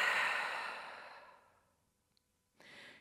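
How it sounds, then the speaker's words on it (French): A long, breathy exhale through the mouth during yoga breathing fades out slowly over about a second and a half, then after a brief silence a fresh breath begins. "et grande expiration par la bouche."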